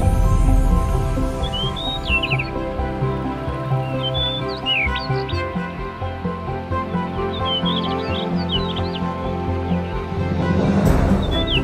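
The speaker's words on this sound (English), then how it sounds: "The birds are enjoying it too." Birds chirp and sing outdoors on a fine day, small scattered calls over a steady background of tonal music, with the chirps fairly clear but not loud.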